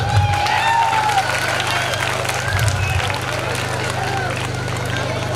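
An audience at a school annual gathering claps in a dense, continuous patter of applause that carries steadily through the whole stretch, with crowd murmur mixed in.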